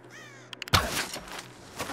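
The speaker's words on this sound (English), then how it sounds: "Oh, it's a bird, I should have shot." A crow caws in the Tomb Raider video game, one harsh, fairly close call followed by a short second caw, with quiet ambience before it.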